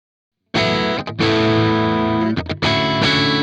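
Heavily distorted electric guitar played through the Archetype Gojira X amp plugin with a mono cabinet, sounding as loud sustained chords separated by brief palm-muted chugs and short gaps, with no voices.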